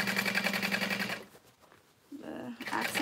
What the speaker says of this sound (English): Switching it up to a stitch length of 5 to top stitch